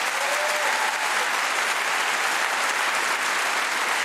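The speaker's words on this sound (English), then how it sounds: "Okay, I got an applause." Sustained audience applause fills a hall during a BAFTA Film Awards ceremony, steady and dense for several seconds without a break.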